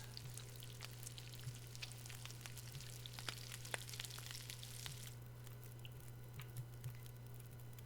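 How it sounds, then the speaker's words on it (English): A smallmouth bass fries in The Long Dark, giving a faint, steady wet sizzle with scattered soft pops and crackles over a low constant hum. "Cook up that smallmouth bass."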